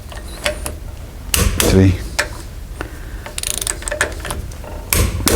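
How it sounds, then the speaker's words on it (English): A torque wrench ratchets as it tightens bolts on the rear axle of a Land Rover Defender, giving several sharp metallic click bursts spaced over a few seconds, close up, with a man counting aloud between them. "use your torque and start to torque them down"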